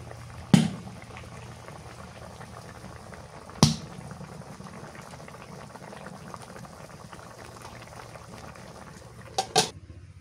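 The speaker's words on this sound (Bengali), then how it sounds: "মাছে বলক উঠে গেছে" A pot of fish curry simmers at a rolling boil, giving a soft steady bubbling broken by three sharp clanks of a lid or utensil near the start, middle and end.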